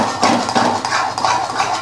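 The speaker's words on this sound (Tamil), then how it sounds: "அடுப்பை பற்ற வச்சு நம்ம கிளற" Rice flour dough for kozhukattai is stirred in a pan on the stove, with repeated close scraping and clattering of a spoon on metal in an uneven rhythm, no voices.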